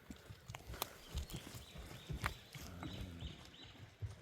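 A light horse walks on firm ground, its hooves clip-clopping in faint, irregular steps at a distance, with no talk.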